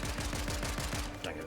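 Rapid bursts of gunfire in the video game Fortnite during a Duo Cash Cup match, a dense stuttering volley of shots close and loud across the whole moment, with a voice talking underneath.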